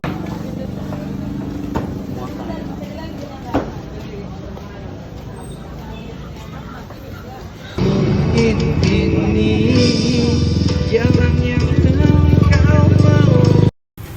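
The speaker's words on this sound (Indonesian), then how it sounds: "Suasana pasar cenderung ramai dan bising akibat aktivitas transaksi, musik yang diputar oleh pedagang melalui speaker, kebisingan dari suara motor" Busy traditional market ambience with a steady crowd murmur, passing motorcycles and traders' music from speakers, growing suddenly louder and denser partway through.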